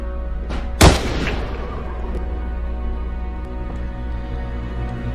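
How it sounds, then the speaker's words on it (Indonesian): A single sharp warning gunshot cracks out, loud and sudden, with a brief echo trailing off over a low steady background rumble. "berkat tembakan menggertak yang Henry layangkan dari luar, Chris akhirnya keluar"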